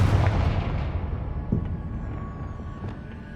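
A Confringo fire spell blasts in the Hogwarts Legacy video game, a single heavy explosive boom at the start that rolls off into a long rumbling decay, with a few smaller pops trailing behind.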